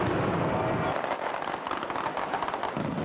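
A Mascleta daytime fireworks barrage fires a dense, deafening run of rapid firecracker bangs and explosions that pop and crackle continuously throughout.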